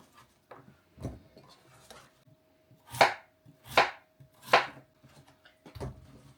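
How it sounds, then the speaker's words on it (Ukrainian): Knife chopping potatoes on a board, several sharp separate cuts, three loud ones in quick succession, close and alone. "І тепер залишилось нам дорізати картоплю."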